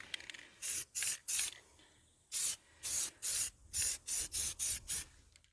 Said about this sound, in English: When I spray the acrylic, we are getting a distressed look that I like.